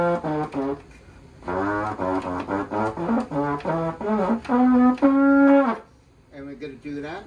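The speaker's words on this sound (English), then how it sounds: "This is a nouveau J-horn that has the exact range, except for the pedal tones, of a euphonium" A nouveau J-horn, a brass horn with euphonium range, plays a series of sustained melodic notes with clear harmonic tone, loud and close, ending on a long held note before fading into a quieter trailing phrase.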